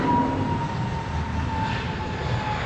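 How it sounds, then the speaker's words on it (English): Airbus A320 jet departing Heathrow for Gibraltar, a steady broadband engine roar held at constant loudness throughout with a faint thin whine running through it, no voices. "Ahead of the Finnair, we've got an A320 off to Gibraltar"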